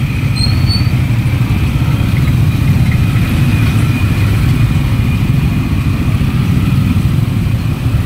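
Idling road traffic of cars and motorcycles, a loud, constant low engine rumble with no breaks, nearby and steady throughout.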